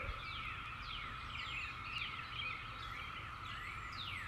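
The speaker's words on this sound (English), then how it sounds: "That's them, that's the cicadas." Distant cicadas make a steady, buzzing drone with repeated swooping whines rising and falling over it, faint and continuous without any talking.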